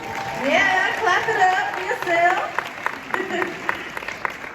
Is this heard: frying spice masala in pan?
no